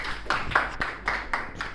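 Classroom applause from a group of students, a burst of quick, fairly close hand claps with a steady rhythm, heard alone for a couple of seconds.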